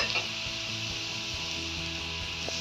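Potatoes for jeera aloo fry in a pan as coriander-cumin powder goes in, giving a steady close sizzle with faint scraping stirs throughout.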